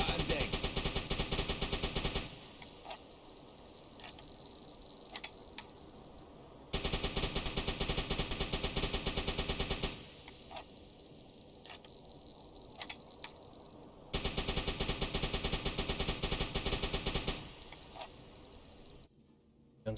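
A U-boat deck gun fires in the video game Uboat, with three loud rapid bursts of several seconds each, separated by quieter stretches of ambient hum and faint clicks.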